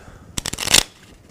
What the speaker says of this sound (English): I don't know why I needed to shuffle